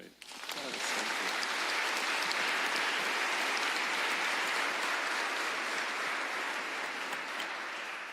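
An audience applauds steadily at a lecture event, dense continuous clapping from a crowd that holds for several seconds before easing slightly at the end.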